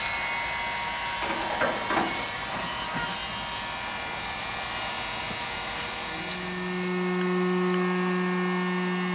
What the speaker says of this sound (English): use my heat gun. Going to use the lower setting